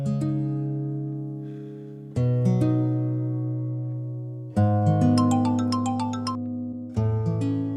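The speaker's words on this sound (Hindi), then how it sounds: "शुक्र करो फरजाना आंटी की कॉल आ गई, वरना अभी अम्मी ने ना जान खा जानी थी।" A phone rings with an incoming call in a Pakistani household drama scene, giving three loud, sustained tonal chimes that start sharply and ring out, the last burst bright and sparkling, with no talking over them.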